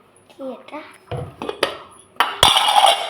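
A metal lid is set over a pot of cooked rice among other kitchen pots, giving a few sharp clinks and clatters that end in a louder metallic rattle; an indistinct voice is heard early on.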